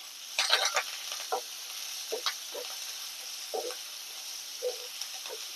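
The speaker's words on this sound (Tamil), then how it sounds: "இப்போ வெங்காயம் ஆட் பண்ணிக்கலாம். இஞ்சி, பச்சை மிளகா, கருவேப்பிலை தழை 3 நல்லா வதங்கட்டும்." Onion, ginger, green chili and curry leaves sauté in a pan with a steady, soft hiss, punctuated by several quick spatula stirs and scrapes, close but fairly quiet, with no voices.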